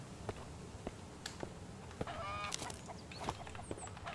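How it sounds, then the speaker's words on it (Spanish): A fowl in the survival game Mist Survival clucks and honks in a few short, scattered calls, faint and somewhat distant over a quiet outdoor background with occasional soft clicks. "Una gallina, una gallina, una gallina, chicos."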